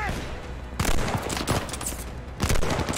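Machine gun fire rattles through a Call of Duty Vanguard firefight, dense bursts of rapid shots near and loud, with a sharp surge midway and another near the end.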